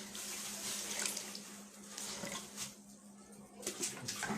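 A dyed dress is washed by hand under running tap water, a steady splashing stream with faint handling noises throughout.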